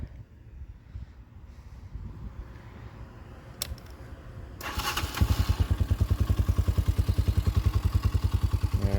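A Tao TBR7 250cc dual sport motorcycle after a top end rebuild is cranked and fires up at about five seconds, settling into a loud, steady, rapidly pulsing idle close by after quieter fumbling and clicks.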